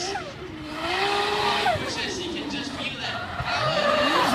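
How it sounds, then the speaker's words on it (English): Car tires burn and squeal in sustained, wavering screeches, loud and near, over a constant engine roar. "Burning the tires pretty much then."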